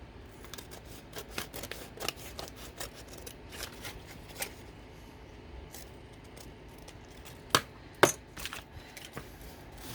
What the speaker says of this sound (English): So now I can cut this off.